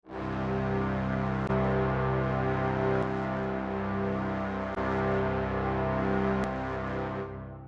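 A deep, sustained sampled low brass chord of octave and fifth holds steadily for several seconds, warm and full at the low end, then cuts off. Faint clicks recur in the background.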